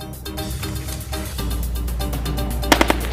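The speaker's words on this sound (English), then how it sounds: "There is a sudden firing from the enemy at the post." Sudden enemy gunfire at a border post, a dramatized scene with rapid shots over a constant rumbling backdrop, ending in three sharper, louder cracks.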